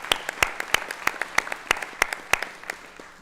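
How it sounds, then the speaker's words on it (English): Applause at a school district board of trustees meeting, a small group producing sparse, distinct hand claps in a fairly regular rhythm, close and light rather than a full crowd roar. "let's have a round of applause for all those."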